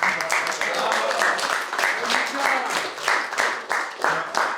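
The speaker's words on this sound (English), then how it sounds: "everybody get John a round of applause" Audience at a real estate investing seminar gives a round of applause, a busy patter of clapping hands mixed with cheering and loud voices talking over it.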